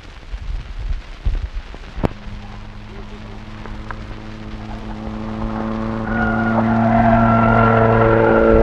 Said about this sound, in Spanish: un Peugeot 404 conducido por Eduardo Casá del equipo Dorrego Competición